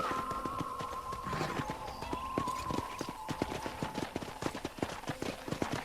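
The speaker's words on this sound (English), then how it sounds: "I picked out a fine horse for you." Horse hooves clip-clop in a steady walking rhythm in Red Dead Redemption on Xbox 360, close and clear over a background ambience and a sustained tone.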